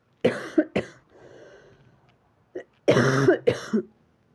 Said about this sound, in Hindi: गला ख़राब होने की वजह से और खांसी इतनी ज़्यादा है